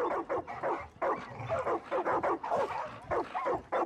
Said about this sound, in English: That's a lot of dogs in here.